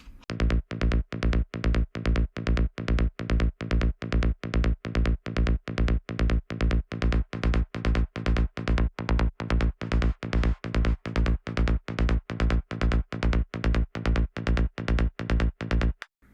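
A steady, rapid train of buzzy, gritty pulses repeats evenly throughout, a distorted electronic tone from a stereo generator effect on a psytrance mix, with no voices.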